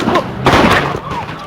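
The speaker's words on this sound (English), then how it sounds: "Gunfire erupting, protesters and police running for cover" Gunfire breaks out during a protest in Ferguson, caught in news footage: a loud burst of sharp bangs rings out over a noisy, crowded scene.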